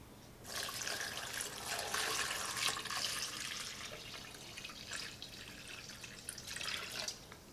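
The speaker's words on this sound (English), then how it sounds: "we're gonna put our brisket down here in the bottom, and we're gonna cover it with water." Water pours steadily into a container holding a store-bought corned beef brisket, a continuous splashing gush that starts abruptly, runs for several seconds and gradually eases, with no talking.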